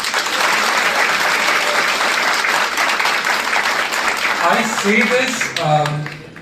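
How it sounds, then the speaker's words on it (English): At the closing ceremony of an innovation, design and entrepreneurship program in Kargil, a crowd gives a big, loud round of applause that roars steadily for about five seconds. A voice then begins speaking as the clapping dies down. "can you have a big round of applause for all of you?"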